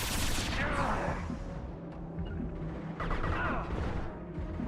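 Heavy gunfire in Mass Effect 2 combat, a dense continuous barrage with crackling impacts and sharper bursts near the start and middle, loud and close.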